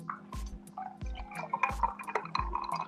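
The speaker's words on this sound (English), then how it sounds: "I hear you pouring a drink." A drink being poured into a glass, with several separate splashing pours spaced about a second apart, close and fairly quiet, and no voices.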